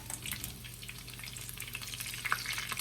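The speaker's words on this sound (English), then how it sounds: "These guys are just sizzling away." Bacon corn fritters sizzle while frying in a pan, a close, steady crackling hiss with scattered sharper pops and a low background hum, and no voices.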